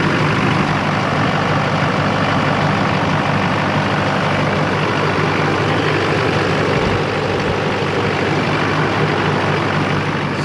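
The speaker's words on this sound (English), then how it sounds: "No more lopey idle. Nice consistent exhaust note." A Chevy/GMC LLY Duramax diesel truck idles steadily with a lift pump fitted. The exhaust gives a constant, even rumble with a clattery diesel texture, loud and close, and the sound stays the same for the whole ten seconds.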